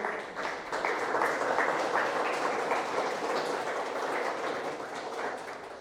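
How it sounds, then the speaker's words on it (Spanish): A church congregation applauds in a sustained wash of many hands clapping together, steady and moderately loud for several seconds with no one talking. "Dale un aplauso al Señor."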